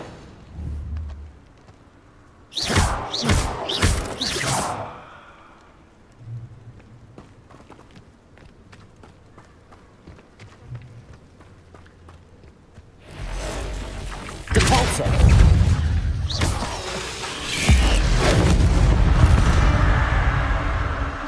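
Incendio fire spell cast in Hogwarts Legacy: a short burst of loud crackling blasts near the start, then a longer, louder roaring surge of fiery booms that keeps going to the end.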